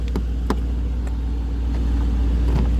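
A Mercedes-AMG E63 S estate's twin-turbo V8 rumbles low and steady up close, with a deep throaty hum and faint rattles on top.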